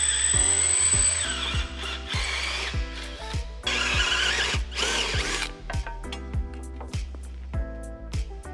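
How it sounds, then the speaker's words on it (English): A power drill bores holes into a race car's motor plate, a loud steady whine with rhythmic ratcheting clicks and shifting pitch as the bit bites the metal. "I'll transfer punch the holes so we know where to drill in the motor plate."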